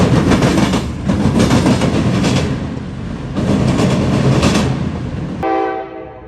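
Freight train M205 rolls across the rail diamonds at a junction in Marion, Ohio, making a loud, close rumble with rhythmic clacking of wheels over the crossing joints before it cuts off abruptly near the end.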